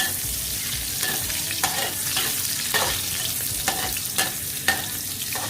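Shiitake mushrooms frying in a hot pan, a loud, close, steady sizzle with repeated scraping stirs at an uneven rhythm.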